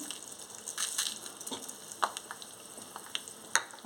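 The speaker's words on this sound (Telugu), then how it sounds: "కడాయి పెట్టుకున్నాను ఆయిల్ వేసుకున్నాను దీని పోపు వేసుకుంటున్నాను" Soft, continuous sizzling of mustard seeds, urad dal, cumin, garlic, dried red chillies and curry leaves tempering in hot oil in a kadai, with scattered crackles and pops, close up and fairly quiet, no voices.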